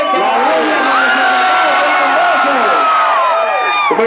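At a street-talent concert, a large crowd cheers and shouts loudly and continuously, with overlapping voices and whoops forming a dense, close wall of noise throughout.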